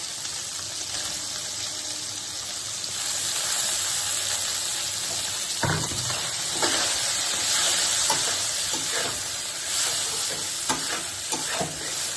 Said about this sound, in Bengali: সোয়াবিনগুলো আমি ভালো করে ভেজে নিচ্ছি।